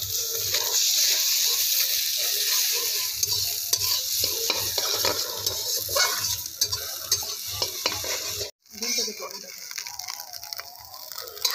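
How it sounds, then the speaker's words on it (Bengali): Eggs frying in a kadai for a Bengali egg masoor dal, loud continuous sizzling with scraping stirs, briefly cutting out near the end before resuming. "ডিমগুলো ভেজে নেবো"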